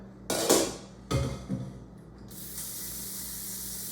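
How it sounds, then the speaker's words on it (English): Tap water fills a cooking pot in a kitchen. A few knocks and short splashes come first, then a steady, close stream of running water hisses on alone. "go ahead and fill your pot with water"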